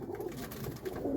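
Chotiyal Madrasi pigeons coo softly in a brief, close, muffled burst of low throaty calls.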